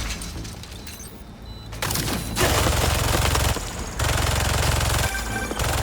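Automated turrets fire sustained machine-gun bursts in Marvel's Spider-Man 2, loud, dense rattling volleys with booming impacts that swell and continue across the scene without talk.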